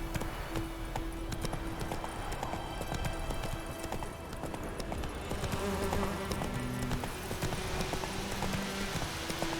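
Roach the horse gallops in The Witcher 3 game: a steady, continuous clip-clop of hooves runs throughout at constant loudness over a game soundscape.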